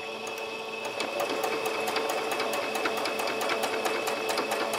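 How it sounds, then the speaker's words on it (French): Domestic sewing machine stitching fabric pieces for beginner patchwork coasters, a steady close run of rapid needle clicks with a brief change in pace near the start, heard alone. "Et je vais tranquillement coudre"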